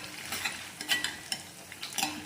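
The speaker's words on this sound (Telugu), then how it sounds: "పేస్ట్ సిమ్లో పెట్టుకుని ఫ్రై చేసుకోవాలి" A spice paste of chana dal, cumin and mustard seeds fries in a pan over a low flame, with soft sizzling and a few scraping stirs of a spoon, heard close and alone.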